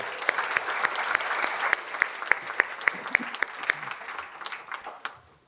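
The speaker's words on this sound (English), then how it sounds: "So, round of applause for Heidi." Applause from an audience at a chamber of commerce annual meeting, a dense steady patter of many hands with a few sharper claps standing out, fading away over the final second.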